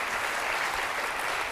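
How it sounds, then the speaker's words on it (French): A TV game show studio audience applauds in a dense, steady wash of clapping that fills the short moment without any voices. "Ah oui, on peut quand même les applaudir"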